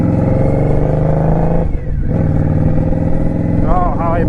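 An Indian Scout Sixty motorcycle exhaust while riding on the road, a steady loud engine drone with a brief dip in the middle, mixed with wind and a rider talking over it.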